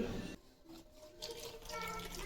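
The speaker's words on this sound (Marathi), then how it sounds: "मी थोडं थोडं पाणी टाकून पीठ मळून घेते" Water is poured little by little into sifted wheat flour to knead chapati dough, giving a faint, continuous trickling and splashing with no talk.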